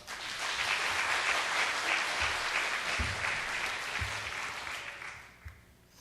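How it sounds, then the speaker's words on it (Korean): A church congregation applauds to welcome a missionary, steady even clapping from many hands that holds for several seconds and then fades out. "우리 박수로 한번 환영합시다"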